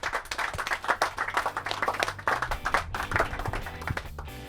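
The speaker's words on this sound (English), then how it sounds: "Round of applause for everyone" A small group aboard a boat on the Great Barrier Reef claps for everyone, a few distinct close hand claps forming brief, lively applause over faint background noise.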